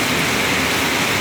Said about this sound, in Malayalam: ഞാനിത് പറയുമ്പോൾ ചെറിയൊരു കാറ്റോടുകൂടി അതിശക്തമായി മഴത്തുള്ളികൾ താഴേക്ക്